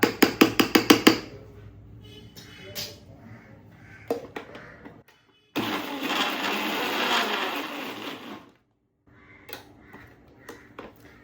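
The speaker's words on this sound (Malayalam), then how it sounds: "വേണമെങ്കിൽ ഇതുപോലെ സ്പൂൺ കൊണ്ടൊന്ന് ഇളക്കി കൊടുത്ത ശേഷം ഒന്നുകൂടി ഒന്ന് കറക്കിയെടുക്കാം കേട്ടോ" A mixer grinder spins ground batter in a steady, loud whirring burst lasting about three seconds, preceded by crows cawing several times nearby and some faint clatter.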